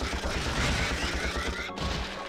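Rapid blaster fire in the Ratchet & Clank video game on Pokitaru's Jowai Resort, a steady mechanical rattle of repeated shots through most of the moment with a brief gap near the end, layered over busy game ambience.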